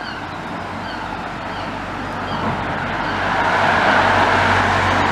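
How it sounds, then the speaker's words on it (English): Cars drive along a town road on a quiet Sunday morning, giving a steady broadband roadway rumble that swells gradually louder as a vehicle approaches, with no talking. "A couple of cars coming down here on a Sunday morning."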